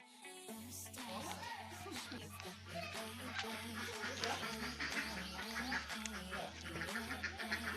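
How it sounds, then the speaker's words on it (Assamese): Ducks quack in a dense, busy chorus at a home garden in Birkuchi, Assam, over a steady low pulsing hum, with voices faintly mixed in. "হাঁহো আছে।"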